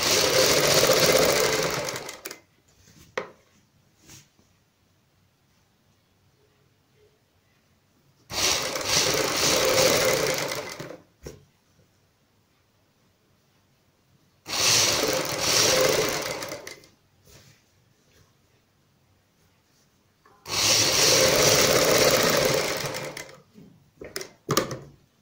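Sewing machine stitching the edge of a plus-size kaliyon wali kameez right alongside the piping, running in four loud sustained bursts separated by quiet pauses.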